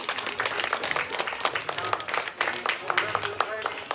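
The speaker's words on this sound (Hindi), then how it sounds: "जोरदार तालियां बजाओ" A crowd of children and adults claps and applauds at a kids' summer camp closing celebration, with scattered sharp hand claps, lively and close, while voices talk and call out over it.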